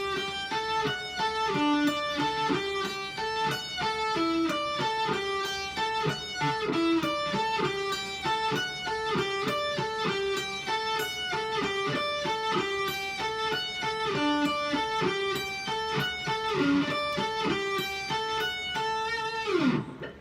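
The intro picked slowly on a guitar, a steady repeating pattern of bright single notes arpeggiated in an even rhythm, clear and close throughout with no talking.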